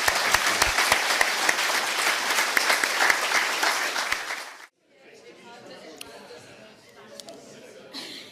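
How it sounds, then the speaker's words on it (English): Warm audience applause at a wildlife trust members' day, a dense, loud round of clapping for about four and a half seconds that stops abruptly, followed by quieter room murmur and chatter. "please put your hands together with very, very warm applause."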